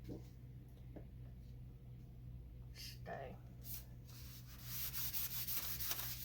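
Rubbing across a surface to clear leftover Diylusions spray ink in a crafting session, a soft broadband scuffing with brief sharper bursts near the end, heard close over a steady low hum.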